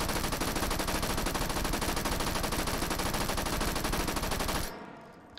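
An M1928 Thompson submachine gun with a 100-round magazine fires full auto in the VR game Hot Dogs, Horseshoes & Hand Grenades: one loud, rapid, unbroken burst of close shots for nearly five seconds, then it stops abruptly.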